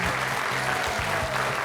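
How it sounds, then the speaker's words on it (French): A studio audience at a French quiz show applauds warmly for a winning contestant, with a dense, steady clapping that carries on without a break. "Follement applaudie par toute la salle."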